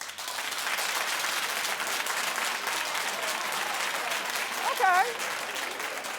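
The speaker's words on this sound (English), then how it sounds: "Clap if you don't mind your man holding your bag" A studio audience at a daytime talk show claps steadily and loudly throughout, with a brief spoken voice near the end.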